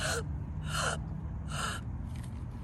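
A voice imitates agonal gasping breaths: three sharp, harsh inhaled gasps at even intervals, followed by a fainter fourth, close and alone with no speech.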